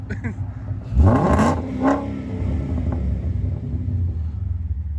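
A deep, loud Ford Mustang S550 5.0 V8 with Kooks headers, midpipes and Magnaflow catback revs, swelling up once and falling back, then settles into a low, rumbling idle close by.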